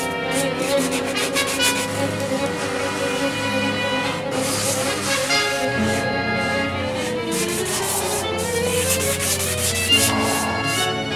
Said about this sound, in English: This is another kind of sanding block, and it's a cylinder.